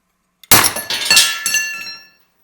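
Tack welds snapping as a bench vise presses a fabricated shifter part free, giving a sudden loud crack followed by several sharp metallic clinks and rattles over about a second and a half.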